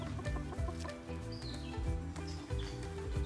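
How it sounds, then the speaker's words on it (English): Chicken clucking on a farm alongside goats, several short calls in a steady broken rhythm close by, over constant low background noise. "That's a chicken."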